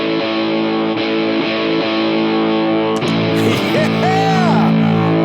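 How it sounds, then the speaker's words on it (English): Electric guitar through cranked Vox amps with high-gain distortion rings out in thick sustained chords and singing notes, with a bending, squealing line near the end, loud and continuous. "Just listen to this high gain distortion to those cranked Vox amps"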